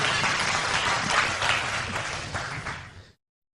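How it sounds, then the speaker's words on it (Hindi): A church congregation claps loudly and steadily during a gospel lesson, a dense wash of applause lasting about three seconds before cutting off abruptly. "इनके लिए जोर से ताली बजाएं।"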